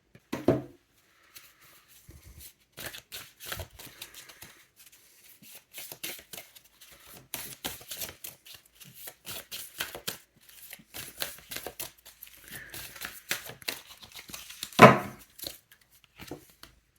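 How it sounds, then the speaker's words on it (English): Color oracle cards are shuffled and pulled by hand in a string of dry, papery riffles, slaps and flicks, close and uneven, with short quiet gaps and one sharper burst near the end. "Now I'm going to pull some color cards to see which colors could be inspiring for you in this quarter."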